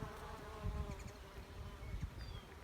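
A steady drone of many bees buzzing in clover nearby, with individual insects' whines rising and fading over soft outdoor background noise.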